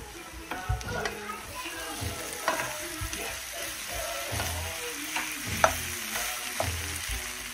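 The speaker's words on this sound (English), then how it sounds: "We're just taking our potato masher to our beans, frying these up a bit" Beans sizzle and crackle in a hot pan while a potato masher scrapes and mashes them, producing irregular knocks over a steady frying hiss.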